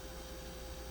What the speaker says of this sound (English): if you're noticing a humming in the background, this is a running fan